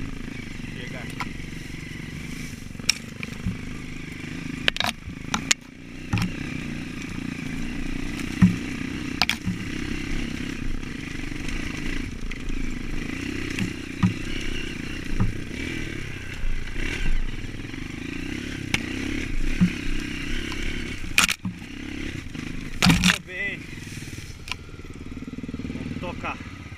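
A dirt bike climbing a mountain trail in São Paulo state, its engine droning steadily with clatter and occasional revs, while a rider's voice talks over it throughout.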